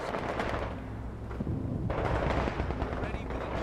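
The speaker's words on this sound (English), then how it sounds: "we got a Bren gun that'll keep them back" A Bren light machine gun fires in a Company of Heroes 2 battle, bursts of rapid gunfire mixed with other combat noise, a voice talking over it.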